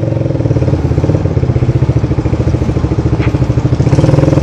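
A Honda CBR150R motorcycle with a Daytona racing exhaust runs steadily with a deep, throbbing exhaust burble, loud and close, with a slight rise in revs near the end.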